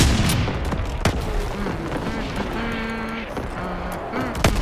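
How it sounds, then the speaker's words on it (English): Booming explosions and gunfire in a WW2 combat video game, several sharp loud blasts over a dense, continuous battle din with engine-like tones beneath. "Incoming enemy artillery."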